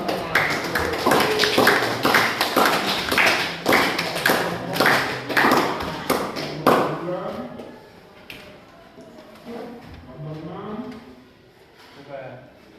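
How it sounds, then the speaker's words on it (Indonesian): Group applause from participants in a classroom session, a loud burst of clapping lasting several seconds before dying away, followed by someone talking. "Dan tepuk tangan untuk kita semua."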